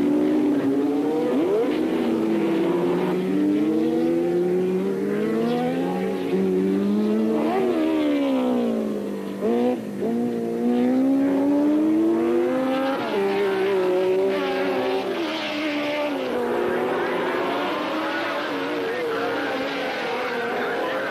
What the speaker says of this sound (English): Stock car races